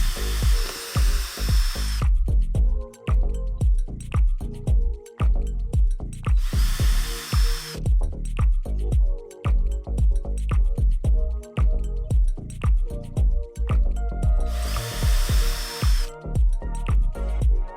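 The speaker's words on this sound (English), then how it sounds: "Now secure each bracket with the included screws and tighten until firmly in place." A power drill drives screws into mounting brackets for a cellular window shade, whirring in repeated bursts with loud hissing spray-like passages over steady background music.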